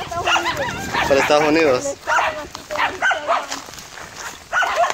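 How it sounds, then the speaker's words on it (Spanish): Dogs bark in a rural village, sharp yips and barks overlapping with close, loud talk from several people throughout. "Hasta 50 perros nos salen a ladrar."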